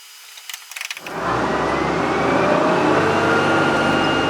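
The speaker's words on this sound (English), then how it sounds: "Isn't it a majestic sound to hear that bad boy spool up with all of its 8 horsepower?" Small 8-horsepower engine on a lifting machine spooling up: a few sharp clicks, then the motor catches and settles into a loud, steady, close running drone.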